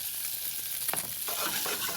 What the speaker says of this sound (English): I'm going to drop some gnocchi in the other pan.